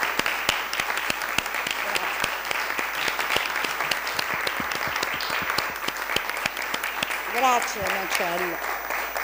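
Sustained applause fills a town council meeting hall, dense steady clapping throughout, with a brief spoken thanks and a singing or speaking voice rising near the end.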